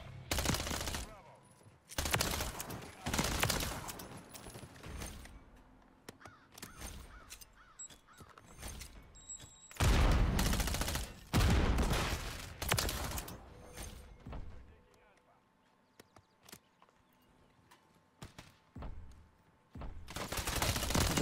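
Bursts of gunfire in Modern Warfare 3 with a Striker 9, several rapid volleys separated by quieter gaps, loud and close, with occasional players talking between them.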